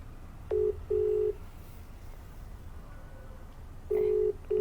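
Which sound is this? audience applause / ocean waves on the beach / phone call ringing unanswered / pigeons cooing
phone call ringing unanswered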